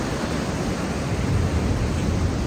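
Strong sea waves crashing on the Sri Lanka coast at full force, a loud continuous roaring wash of surf and spray filling the whole clip, close by, with no voices.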